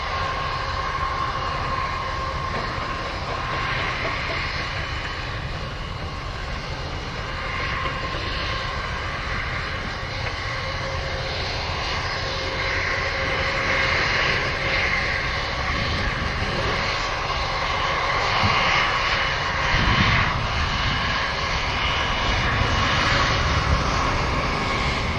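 Airplane at Montego Bay airport in Jamaica on runway 25, a steady, loud engine roar and rumble lasting the whole time, swelling slightly toward the end, with no talk over it.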